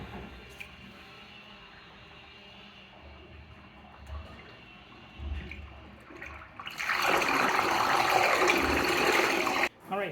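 Water drains from a newly built tiled shower pan after a leak test, a low quiet wash that swells into a loud, steady rushing gurgle in the second half before briefly cutting off.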